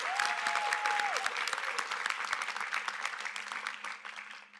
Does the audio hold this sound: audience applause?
yes